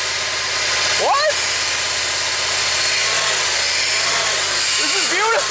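Engine of an abandoned SUV billed as the fastest in the world, running loud and steady right after its first start, with people exclaiming and shouting close by over the engine.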